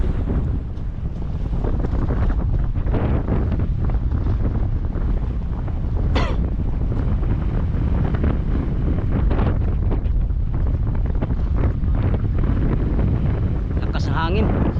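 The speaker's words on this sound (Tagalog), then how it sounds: "Lakas ng hangin." Strong sea wind roars across the microphone aboard a boat near Guntao Island, Palawan, a continuous loud buffeting rush mixed with water and hull noise, with occasional faint voices buried beneath.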